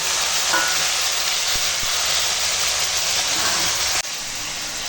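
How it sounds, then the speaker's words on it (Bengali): Okra frying in hot mustard oil in a wok gives a steady, loud broadband sizzle and hiss that stays constant throughout, with a brief dip near the end. "এখন কড়াই দিয়ে দিয়েছি সরিষার তেল আর তেল হয়ে গেছে গরম আর এখানে মাখানো আছে ঢ্যাঁড়স তো দিয়ে দিলাম ঢ্যাঁড়সটা ভেজে দেবো"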